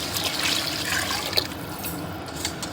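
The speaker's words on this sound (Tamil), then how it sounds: "இப்போ நம்ம இதுக்கு தேவையான அளவு தண்ணி ஊற்றிக்கலாம்." Water poured into a pot of mixed rice and lentils, a steady splashing trickle heard close and alone throughout.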